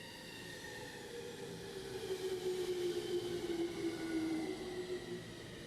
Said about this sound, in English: Now this is what a Japanese train sounds like.